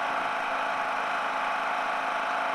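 A portable generator modified to run on propane drones steadily at close range, a constant loud engine hum with a faint rattling vibration and no pauses.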